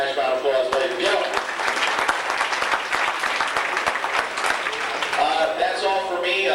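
A banquet audience at the 1992 Banquet of Champions breaks into sustained applause, dense and loud throughout, with faint voices and cheering under the clapping.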